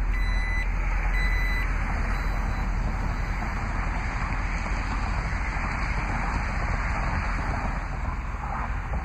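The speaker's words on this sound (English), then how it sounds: "to close the lift gate, just simply press the lift gate button on the trim panel" A 2012 Jeep Grand Cherokee Overland 4x4's power lift gate closes to a steady warning beep held over a constant broadband whir and rush, loud and close, with no one talking.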